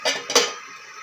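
A lid is set onto a cooking pot during preparation of an elephant foot yam stir-fry: two quick, bright metallic clinks close together, then a short fading ring in a quiet kitchen.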